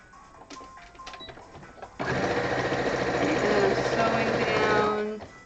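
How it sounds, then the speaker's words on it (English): A sewing machine stitches fabric while dice bags are made. Its motor starts abruptly after a few quiet handling noises and then runs as a loud, steady whir for about three seconds before it stops. "And then now I'm going to sew the top."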